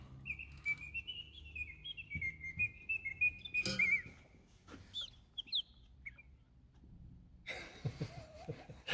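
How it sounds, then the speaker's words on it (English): An antique clockwork bird automaton at an auction sale gives a thin, high warbling whistle that slides and trills, quiet and close, followed by scattered clicks and a brief later burst of rustling. "a clockwork bird automaton. This sounds lovely as well."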